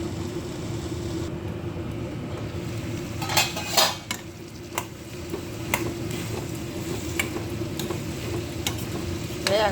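Bitter gourd masala cooking in a pan over low heat, a soft steady sizzle under sharp clinks and scrapes of a spoon stirring against the metal, with bursts of knocking around the middle.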